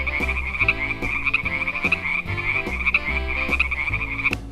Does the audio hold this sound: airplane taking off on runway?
no